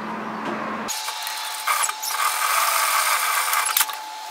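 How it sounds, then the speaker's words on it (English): A sewing machine stitches a 6mm seam, starting abruptly with a steady, close mechanical whirr that runs continuously to the end at an even pitch, loud and alone without voices. "we're going to sew a seam at 6mm"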